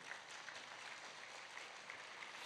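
A church congregation applauding, a steady, even wash of many hands clapping at a fairly faint level with no pauses.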